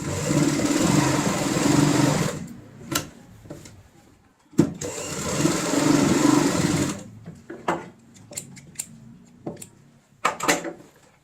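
A sewing machine stitches a fabric tote bag at home, running in two long, steady bursts, with quiet clicks and handling noises in the pauses between and after; no one talks.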